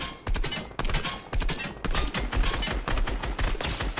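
Rapid bursts of Fortnite gunfire crack one after another, loud and close, with short gaps between volleys and no talking.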